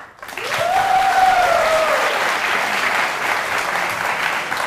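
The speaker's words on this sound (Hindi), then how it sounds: "तालियां!" A TV studio audience bursts into loud, sustained applause, dense clapping from many people close by that holds steady throughout, with a brief tonal sound near the start.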